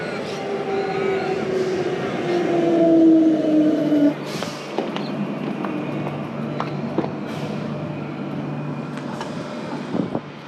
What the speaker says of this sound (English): I'm just going to take the train back out to East Perth